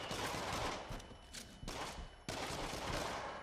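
Rapid automatic Uzi fire in the VR shooter Until Dawn: Rush of Blood, dense continuous bursts broken by two short gaps, loud and close with no talking.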